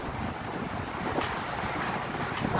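Typhoon waves splash and churn water in a steady, loud broadband roar mixed with gusting wind buffeting the microphone, with no voices.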